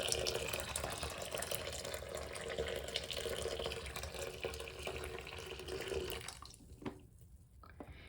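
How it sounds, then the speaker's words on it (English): A kettle of boiling water pours into a basin for felting knitted wool, a continuous splashing gush that tapers off and stops near the end, leaving a few drips. "Add another kettle full of boiling water."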